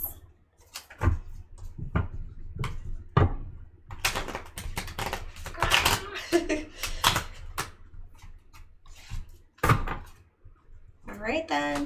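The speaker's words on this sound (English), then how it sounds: "That means stop shuffling." Tarot cards are shuffled close by in a string of sharp papery riffles and slaps, coming in irregular bursts with quiet gaps between, while a voice is faintly heard at times.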